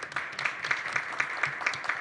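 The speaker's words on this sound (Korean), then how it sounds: "박수 한번 주십시오." An audience at a city council policy forum in Gimpo gives a short round of applause, steady and moderately loud, with clapping that keeps a loose rhythm throughout.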